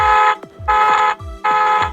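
A car alarm system sounds after the red button on the key fob is pressed. Loud, harsh, buzzing horn blasts repeat in a regular rhythm, three in two seconds, each followed by a short gap.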